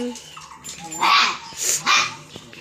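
Two small puppies bark at home, giving a couple of sharp, close yips and short barks separated by brief pauses, with some softer whimpering sounds in between.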